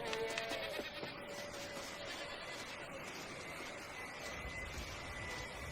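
Goats bleating in the video game Red Dead Redemption: Undead Nightmare, a few wavering calls early on over a constant low background bed of game ambience.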